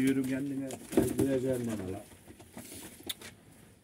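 Pigeons cooing close by in low, rolling calls mixed with a voice, then quieter rustling and a brief sharp sound near the end.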